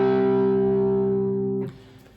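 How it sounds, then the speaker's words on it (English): A sustained guitar power chord of root, fifth and octave rings alone with a thick, slightly distorted tone, held steady for over a second and a half before being cut off with a brief muted scrape. "A power chord is musical jargon for the pair of a root note and its fifth degree"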